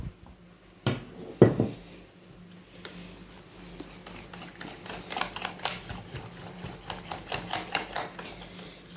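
Pancake batter of flour and milk whisked in a bowl for crêpes with a cabbage and apple filling, giving a steady run of light, quick tapping clicks that grows slightly busier toward the end, close by with no talking.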